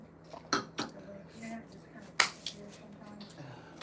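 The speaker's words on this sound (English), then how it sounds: "Washing dishes is not my favorite thing to do." Dishes and cutlery clink sparsely during washing, a few sharp isolated taps over a quiet background.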